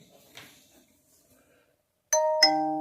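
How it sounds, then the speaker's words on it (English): A phone plays a doorbell tone: after a brief faint rustle and near silence, a clear two-note ding-dong chime rings out, loud and close, with the second note ringing on. "This phone has a doorbell on it."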